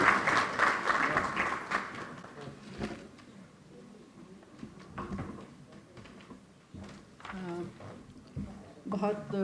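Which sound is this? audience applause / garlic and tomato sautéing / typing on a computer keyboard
audience applause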